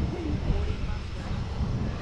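Airplane engines roar at an airport as a steady, close, rumbling wash of noise with some wind buffeting. Muffled voices may sit faintly underneath.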